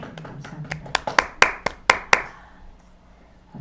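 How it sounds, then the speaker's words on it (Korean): Church congregation at a Sunday worship service claps in a slow, rhythmic run of about a dozen crisp, close claps that build, then stop, leaving near silence. "하나님께 영광의 박수 올립니다."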